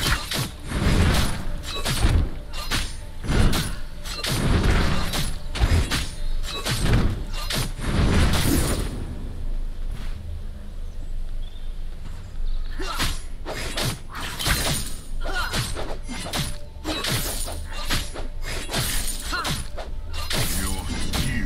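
An allied tower in the video game Predecessor is destroyed in a long run of sharp crashing, shattering impacts and mechanical clanks, loud and dense, easing briefly midway before more breaking bursts follow.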